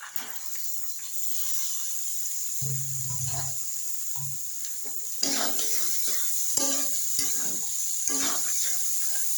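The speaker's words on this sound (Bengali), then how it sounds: "আমি দিয়ে দিচ্ছি সেদ্ধ করা মুগ কড়াই।" Boiled mung beans go into a pan of spiced oil for ghugni. A sizzling hiss follows, along with scraping stirs and clinks. A brief low hum and some nearby movement sit under the frying.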